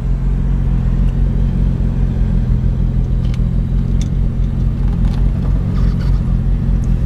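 A 1966 Jaguar driving in second gear, its engine a loud, steady low rumble heard from inside the car, even and continuous throughout with faint clicks and rattles on top.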